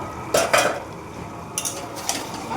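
A lid is lifted off a pot of chicken and potatoes, with a couple of sharp metallic clinks and scrapes standing out briefly over a quiet, soft sizzle, close up, and no voices.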